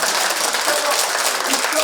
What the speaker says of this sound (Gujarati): એમના માટે જોરથી તાળી